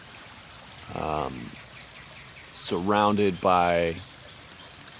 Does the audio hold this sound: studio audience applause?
no